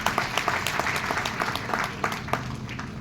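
An audience at a Jharkhand government event claps steadily and loudly, a dense sustained applause with individual hand claps standing out throughout.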